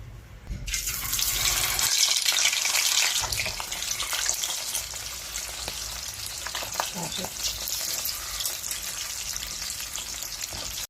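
Fish coated in crispy fry mix hitting hot reused oil, a sudden loud sizzle that settles into steady close crackling and spitting throughout, with no talking.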